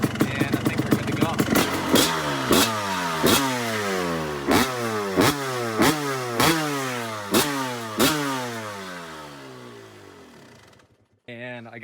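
A rebuilt, freshly broken-in Kawasaki KX250 two-stroke dirt bike engine runs loud and close, revving in repeated rising sweeps with sharp regular pops, before idling down and cutting out near the end.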